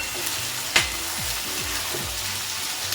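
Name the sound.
onions frying in hot oil on high flame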